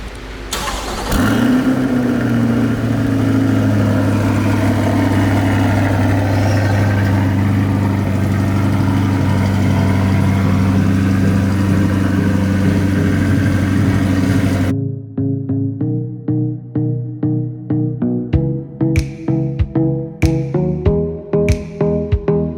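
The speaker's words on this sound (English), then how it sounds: "This is a 2020 Corvette C8. First one here at our shop. We're doing Xpel paint protection film on it. I'm gonna shoot a video, but time for a cold start." A 2020 Chevrolet Corvette C8 track-package sports car cold-starts with a loud crank and bark, then settles into a steady, rumbling high idle, followed by a series of sharp intermittent clicks or taps near the end.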